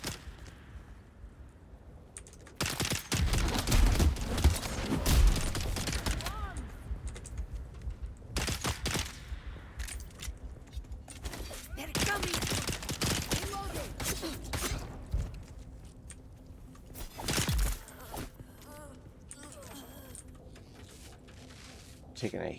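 Bursts of rapid gunfire in the video game Dune Awakening crackle and pop in clusters, with sharp cracks, clanking mechanisms and lulls between volleys, while a voice talks over it.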